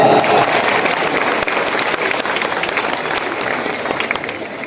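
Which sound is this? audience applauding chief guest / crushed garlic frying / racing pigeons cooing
audience applauding chief guest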